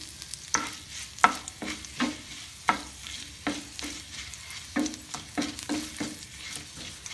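Urad dal and dried red chillies fry in oil in a pan for tomato chutney, a soft steady sizzle broken by repeated scraping stirs of the spatula, close by and with no one talking.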